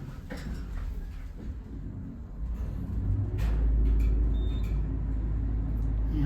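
A vintage Westinghouse/Schindler elevator car in a university residence hall runs between floors, a low mechanical rumble and hum that builds partway through and holds steady, with a few faint clicks and rattles above it.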